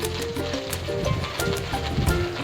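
Red lentils (masoor dal) frying in a pan sizzle loudly as water is poured in, a steady close crackling hiss with bursts of bubbling, alone with no talk.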